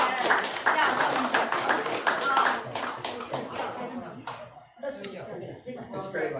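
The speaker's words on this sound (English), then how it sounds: "Let's give a round of applause." An audience claps in a burst of applause, with dense scattered hand claps continuing for several seconds, mixed with voices and light laughter.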